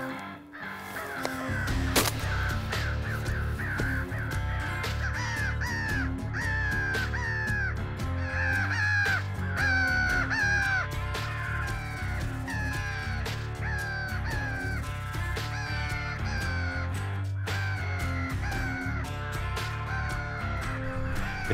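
Crows caw over and over, some near and some farther off, during a crow hunt in North Carolina, filling the whole stretch above a steady music track, with a little quiet talk.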